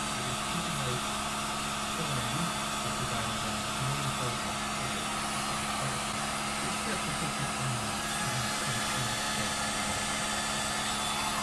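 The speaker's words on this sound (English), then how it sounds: "Definitely be careful of these heat guns. They put a lot of heat out." A heat gun blows hot air with a loud, constant whooshing roar and a steady motor whine throughout, with faint voices murmuring underneath.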